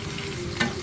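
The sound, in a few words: onions and green chillies frying in oil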